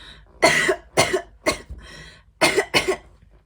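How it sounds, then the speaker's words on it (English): A single person coughs five times up close, loud dry bursts in two quick groups with a short pause between them. "Seki means cough."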